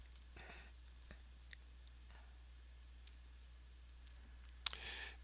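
A few soft computer-mouse clicks, widely spaced and faint against a quiet room, with one sharper, louder click near the end.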